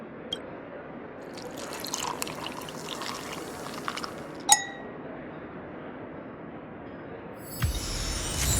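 A drink is poured into a glass in the video game Honkai Star Rail, a soft liquid trickle with a sharp glassy clink partway through, then a brighter splash near the end over a quiet ambient background.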